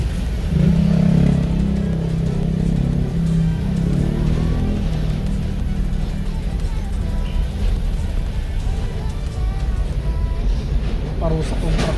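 A truck's engine drones steadily as it drives a mountain road between Crystal Cave and Lion's Head in Baguio, a loud continuous rumble with road noise and people talking over it.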